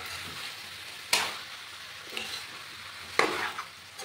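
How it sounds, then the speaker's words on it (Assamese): Food fries and sizzles steadily in a pan while potatoes are being cooked, with three sharp stirring scrapes cutting through the hiss; no one speaks. "ভালদৰে ভাজি লৈছে"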